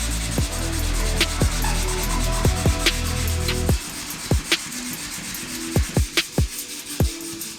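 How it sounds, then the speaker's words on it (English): A custom carbon fiber dash piece for a Toyota Hilux is sanded by hand with 220 grit sandpaper, a close, loud rasping rub in repeated strokes, steady at first and then in separate short passes. "I'm just gonna sand this out with 220 grit, kind of flatten it out"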